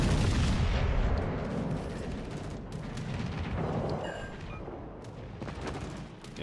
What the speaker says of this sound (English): Wait for this Nebraska to shoot.